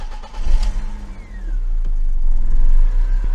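A BMW car engine cranks and fires, then settles into a steady, loud low rumble close by, with no one talking over it.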